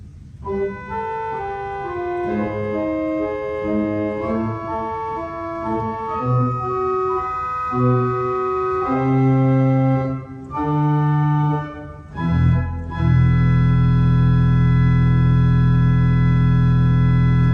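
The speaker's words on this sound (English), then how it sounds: "the first stop, which is a double open diapason. It is a 16 foot and it sounds like this." A deep, full 16-foot double open diapason pipe organ stop on a restored Norman & Beard organ plays a slow sequence of sustained notes, ending on a loud, low, rumbling held chord.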